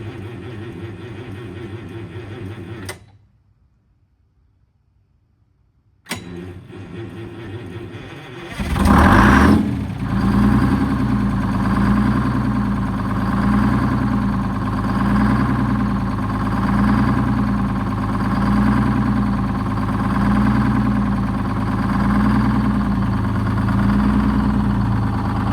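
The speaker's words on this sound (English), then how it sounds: "It's barely turning that engine over." A bus engine on weak, worn-out batteries cranks slowly and labours before cutting out. After a short silence it cranks again, catches and settles into a loud, steady, rumbling idle close by.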